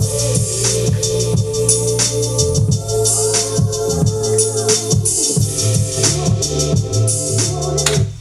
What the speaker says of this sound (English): So what I did is I used a filter to filter out some of the high sounds of the sample.